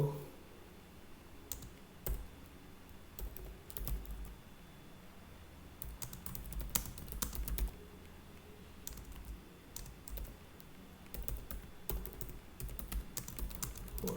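Code being typed on a computer keyboard: quiet, close key clicks come in irregular bursts and short runs, with brief pauses between them and no voices.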